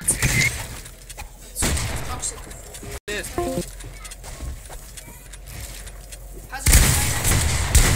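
Gunfire in a video game, bursts of loud rapid shots in several clusters with quieter stretches between, mixed with voices talking.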